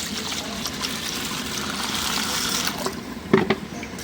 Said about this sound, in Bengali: ডালগুলো আমি এখন ধুয়ে নিব।